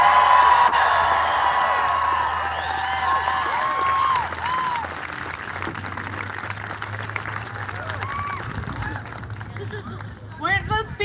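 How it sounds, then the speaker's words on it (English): An audience at a live BYU event gives speakers sustained applause, with dense clapping that slowly thins over about ten seconds, and crowd voices murmur beneath it. "Let's hear one more round of applause."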